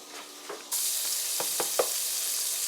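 Seasonings for raisin rice hit a hot pan and burst into a loud, steady sizzle after a few soft clicks, the frying hiss continuing close and unbroken.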